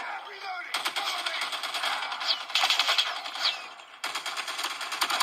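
Rapid bursts of gunfire ring out from a shooter game played on a Xiaomi Redmi Note 10 Pro phone, sustained and dense with a short break, while a voice reacts over it.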